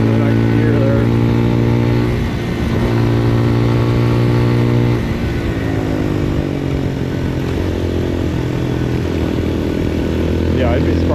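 A Papio SS mini motorcycle engine hums loudly while riding, its pitch climbing, then briefly dipping and resettling lower as the gear changes, with a rider talking over it.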